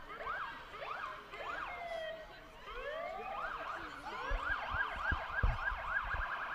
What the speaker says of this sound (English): I still hear the sirens. They appear to be making their way closer down here